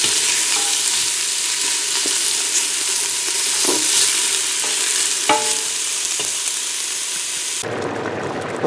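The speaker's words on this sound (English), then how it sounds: "what I'm doing is frying the onions and the garlic" Onions with crushed garlic for chili sizzle steadily in a hot pan, a dense hiss broken by small clinks and scrapes of stirring, close and continuous before the sound abruptly thins near the end.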